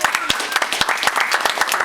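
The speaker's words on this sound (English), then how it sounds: "Please join me in a round of applause for your outgoing officers." Audience applause at a club officer installation, recognizing the outgoing officers; scattered, fairly sparse hand claps at moderate volume with a faint voice underneath, lasting under two seconds.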